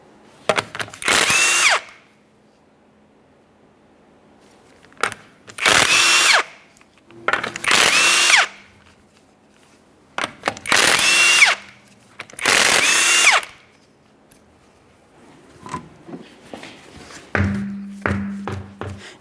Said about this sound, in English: remove all 5 of your 21mm lug nuts and then you can pull the wheel off of here